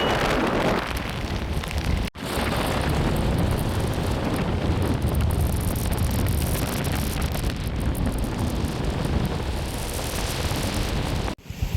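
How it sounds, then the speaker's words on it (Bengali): Heavy monsoon downpour during a motorbike ride in Belpahari, Jhargram: a loud, steady broadband roar of rain and wind buffeting, unbroken apart from two brief dips. "এই দেখুন শুরু হয়ে গেল মুষলধারে বৃষ্টি।"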